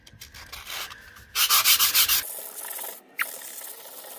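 A wall is hand-sanded with 150 grit sandpaper in short, close scratchy strokes, a faint rub first and then a louder burst of rhythmic back-and-forth passes before it trails off.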